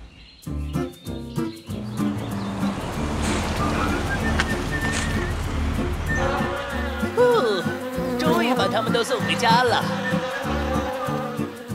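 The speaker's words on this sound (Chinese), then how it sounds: "左边嗡嗡嗡，右边嗡嗡嗡，蜜蜂越来越多" Cartoon bee buzzing from a children's cars song swells and wavers loudly for several seconds, mixed with bright electronic tones and whistle-like sounds.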